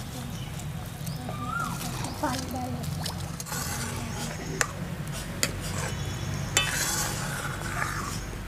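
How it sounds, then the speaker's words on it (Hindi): Fried banana pieces stir and sizzle in a pan of cooked spices, with scraping spoon strokes and a few sharp clinks over a low steady sizzle, while a voice talks over the cooking. "मसाले हमारे अच्छे से पक गए हैं, इसमें हम डालेंगे फ्राई किए हुए केले को।"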